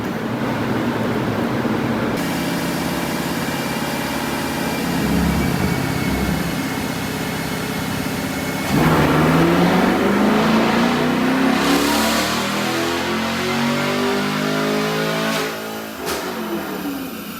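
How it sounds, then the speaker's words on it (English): A 2020 Chevrolet Camaro with an LT1 V8 and modified exhaust revs hard on a dyno, its loud engine note climbing steadily in pitch through a long pull before dropping off, close and continuous with no talking. "Man, that exhaust sounds good, man."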